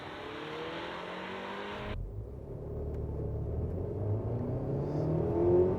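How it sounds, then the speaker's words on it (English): A 2023 Haval H6 GT accelerates hard in reverse, a steady engine drone that shifts lower after a couple of seconds and builds into a louder rumble with rising road and motor noise. "time to see how quick the H6 GT will go in reverse"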